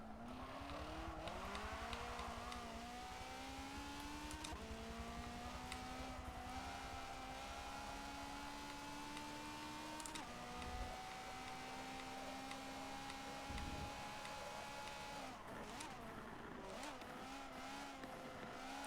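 In Forza Motorsport 7, race car engines scream through a long high-revving drone, pitch climbing through the gears with brief shift dips as a Ferrari F50 closes in, steady and loud with no talk.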